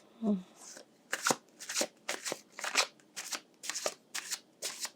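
Tarot cards shuffled in a steady run of about ten crisp riffling bursts, close and clear, with a brief voice murmur at the very start.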